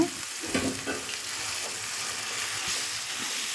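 Boiled amaranth greens with green chilli, tomato and onion stirred in hot oil on a stove, a steady close hiss of frying with soft scraping stirs, no voices.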